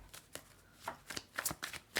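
Tarot cards are shuffled by hand in a series of brisk, crisp riffling bursts that grow denser and louder toward the end, with no talking.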